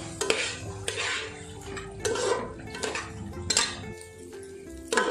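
Rice and lentils fry with spices in a pan for Bengali bhog khichuri, with a dry crackle while a spatula scrapes and stirs in rhythmic strokes.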